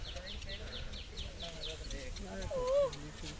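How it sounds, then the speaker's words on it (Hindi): An Asian koel calls outdoors, its thin repeated notes faint beneath low background chatter, ending in a clearer rising call just before the close. "यहाँ पर ना काफी लिटरली कोयल की आवाज आ रही है"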